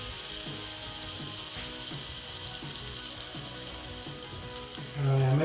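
Bread frying in a fry pan for a patty melt, with a steady sizzle throughout, close and moderately loud, and a louder burst of sizzling near the end.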